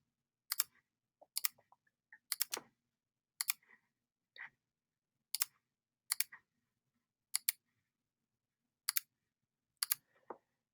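Sharp computer mouse clicks while drawing a shape in Fusion 360 CAD software, about a dozen crisp isolated clicks, some in quick pairs, spaced irregularly against near silence.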